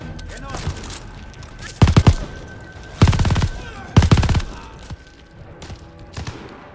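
Heavy gunfire in Call of Duty: Vanguard, three loud rapid bursts about a second apart, then quieter scattered shots, with a voice talking between them.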